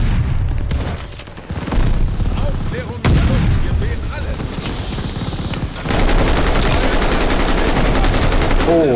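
Rapid automatic bursts and booming shots from multiplayer Call of Duty Vanguard on PS5 fill the whole stretch, loud and dense, with a heavier blast partway through.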